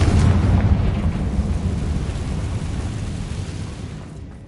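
A Confringo fire spell blast in the video game Hogwarts Legacy, a loud, deep explosive boom at the start that rumbles on and slowly fades over several seconds, with no talking.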